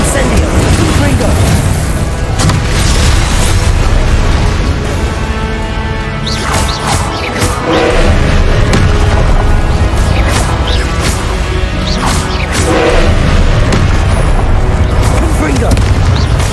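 Repeated Confringo blasting-spell explosions in Hogwarts Legacy, loud booming blasts and crashing impacts at an uneven rhythm under a constant rumbling bed, with shouted spell voices mixed in.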